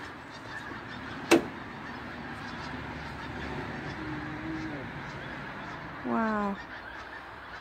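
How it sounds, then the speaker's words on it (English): Flock of geese flying over at sunset near the sea and fens, honking faintly at a distance in scattered calls, with one louder burst of honks near the end and a brief exclamation from a person. "That line is all geese."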